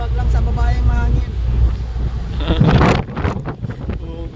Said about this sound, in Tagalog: Malakas ng hangin, no?